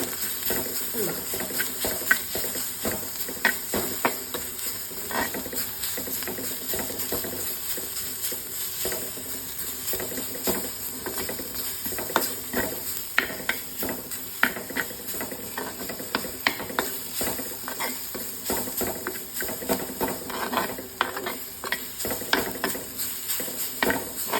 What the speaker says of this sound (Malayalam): ഇനി നമുക്കിത് ഇളക്കി കൊടുക്കാം